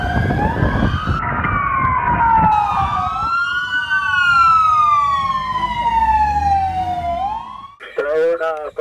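A police car siren wails loudly and continuously, sweeping up and down in pitch while the vehicle rushes a wounded officer toward hospital; a voice cuts in at the end.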